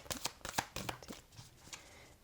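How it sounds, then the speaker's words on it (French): Someone shuffles a deck of new matte tarot cards close by with a quick series of soft, papery riffles and taps, the clicks coming fast at first and then thinning out, all fairly quiet. "On va essayer de les brasser un petit peu."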